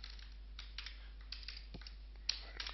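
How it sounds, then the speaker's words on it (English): Fast, light tapping on a computer keyboard, steady irregular keystrokes at close range over a low background hum, no voices. "I can type."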